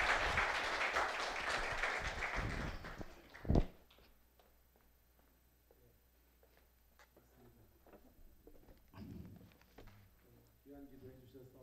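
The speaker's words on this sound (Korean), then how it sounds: "우리 박수로 환영해 주시기 바랍니다." A church congregation applauds to welcome a seminary preaching professor at a Sunday service, with loud clapping for a few seconds that cuts off abruptly, followed by quiet room tone and scattered speech.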